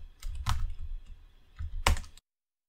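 Two short bursts of typing on a computer keyboard as a terminal command is entered, a quick cluster of clicks followed by a second denser flurry, close and fairly quiet, then silence.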